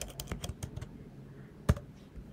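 Quiet clicking of keys on a computer keyboard while writing React code, a loose run of taps followed by one sharper keystroke, close and faint with no talk.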